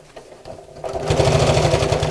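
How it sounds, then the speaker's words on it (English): A sewing machine stitches through three layers of kraft-tex, starting with a few slow hesitant stitches, then running into a fast, steady, loud mechanical chatter at close range. "I'm actually sewing through 3 layers of the Craftex."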